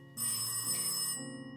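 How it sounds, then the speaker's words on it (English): A telephone rings in the puzzle video game Cube Escape: The Mill & Birthday, one sustained electronic bell tone of about a second with a brief shifting pitch, clear and close, with no voices. "No, that's the phone."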